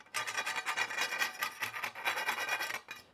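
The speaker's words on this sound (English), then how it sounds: "I just take a round file, get all the sharp edges off" Round file rasping around the inside edge of cut metal electrical conduit, a quiet series of quick, rhythmic scraping strokes up close.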